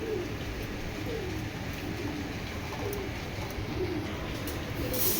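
Racing club pigeons coo in soft, repeated low calls under a constant background hum, with no one speaking.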